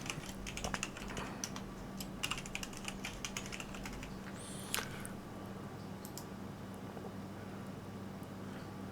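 Keys of a computer keyboard tap out a password during operating system user account setup, a run of soft, quick clicks over a steady low hum, busier in the first half and sparse after.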